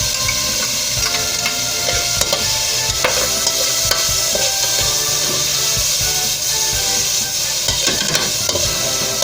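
Garlic frying in a pan while being stirred, a loud continuous sizzle close up with frequent scraping and clinking of the utensil against the pan.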